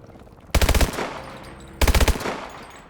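Call of Duty Advanced Warfare machine gun fire comes in two loud, close bursts of rapid automatic shots, each about a third of a second long, with a short reverberant tail after each.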